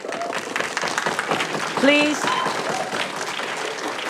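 An audience in city council chambers applauds throughout, a steady patter of clapping under a speaker's voice, which briefly cuts in over it.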